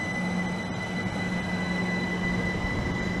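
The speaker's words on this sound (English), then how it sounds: "It is 1 Charlie 16, the 1347 Great Western Railway service from London Paddington to Bristol Temple Meads." Great Western Railway train on the Great Western Main Line at Maidenhead, running from London Paddington to Bristol Temple Meads, passing close with a loud continuous roar, rail rumble and a high steady whine.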